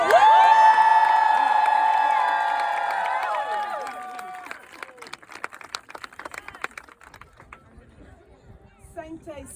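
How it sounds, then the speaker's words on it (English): A crowd cheers and claps at an outdoor gathering, opening with loud, sustained whoops and shouting that fade over four seconds into scattered clapping and chatter. "Another round of applause."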